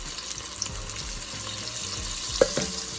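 Curry goes into a pan of frying crab, giving a close, continuous sizzle with bursts of stirring and a sharp scrape against the pot.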